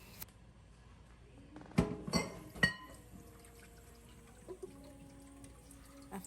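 Hausa Kooko, a spiced millet porridge, is poured and strained through a sieve. A short run of splashing pours and clinks sits in the middle of an otherwise quiet stretch, followed by a few faint knocks.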